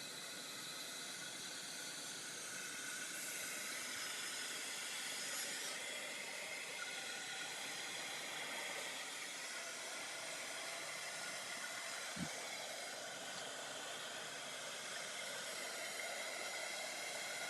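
A heat embossing tool blows steadily over embossing powder on a craft piece in a studio, giving a continuous airy hiss that holds throughout at an even level, with one brief click partway through.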